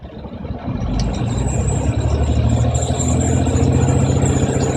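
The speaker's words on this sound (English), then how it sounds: "I'm going to accelerate" A truck engine revs up steadily during an air brake test, a loud, continuous low rumble that builds and holds for several seconds with no talking.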